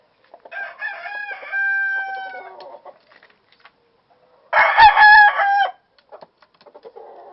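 A yellow-feathered two-year-old rooster crows twice, nearby and loud, with a long drawn-out call followed by a second crow after a short pause; faint clucks in between.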